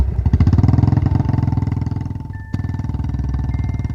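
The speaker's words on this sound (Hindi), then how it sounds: "वापस बाइक स्टार्ट करके उस पुलिस ऑफिसर के बताए न्यू रूट पर चल पड़े" Motorcycle engine running steadily with a throbbing, pulsing exhaust note, loud and close. It continues as a sustained idle and ride, with a brief dip and a sharp click partway through, and no voices.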